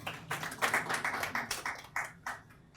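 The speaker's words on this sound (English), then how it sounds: "Please a round of applause for him." A short burst of hand clapping from a small crowd at a showroom unveiling and foundation-laying event in Lagos, brisk and uneven, tapering off into a few last claps.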